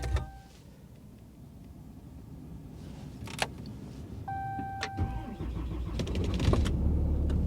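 A diesel Corvette started in freezing cold after its diesel preheat: a faint idle hum and a few clicks, then a tonal electric whine and the engine catching and running louder toward the end, with no talk.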